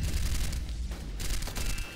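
Loud bursts of explosion and gunfire in the first-person shooter XSHOT: dense rapid blasts and crackling booms come close together with a brief lull in the middle.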